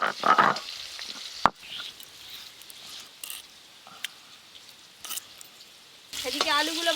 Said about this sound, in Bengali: লবণ হলুদ দিয়ে আলুগুলো ভেজে নেব।